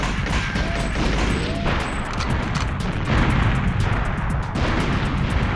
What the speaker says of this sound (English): If I detonate that thing, it's gonna blow up the computer and I'm gonna fail the mission.